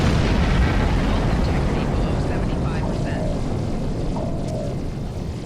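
Torpedoes fire and explode during a Star Trek Online space battle, a dense, loud, continuous roar of blasts that slowly tapers off.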